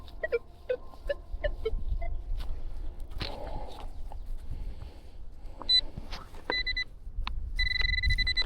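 Sparse electronic beeps and short tonal chirps from a metal detector ring out at intervals over faint rustling and thuds, growing more frequent and steady toward the end.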